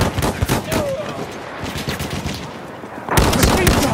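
Battlefield 1 gunfight with machine gun bursts: sharp rapid shots rattle through the scene, loud and close, with a heavy volley near the end.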